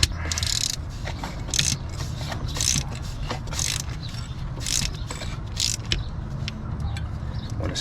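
Close, rapid ratcheting clicks from a socket wrench tightening the knock sensor bolt on a 2004 Honda Accord, coming in repeated bursts over low mechanical rumble.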